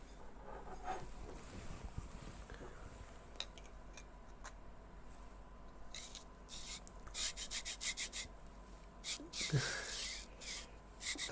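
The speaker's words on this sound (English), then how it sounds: "temporarily insert a smooth rod through the LM8UU linear bearing" A smooth rod slides and scrapes through an LM8UU linear bearing while a Prusa printer is being built, giving uneven rubbing and rasping bursts, close and fairly faint, growing busier toward the end.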